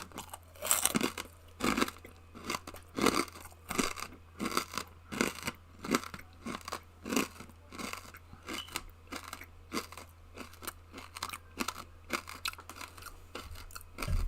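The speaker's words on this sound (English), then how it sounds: "I'm going to loudly eat a crunchy snack." Someone eats a crunchy snack loudly and close to the mic, with a long run of sharp, evenly paced crunching bites over a steady low hum and no talking.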